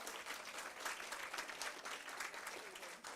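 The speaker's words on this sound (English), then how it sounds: "Let's applaud the little boy there." An audience claps for a young boy in the lineup at a school reading competition, a steady, dense applause that holds at an even level for about three seconds with no talk.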